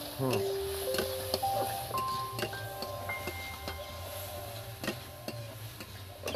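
Tomato and turmeric frying in a pan for Maggi noodles are stirred with a utensil, giving a steady sizzle with repeated light scraping taps against the pan, close up, while a voice talks over it.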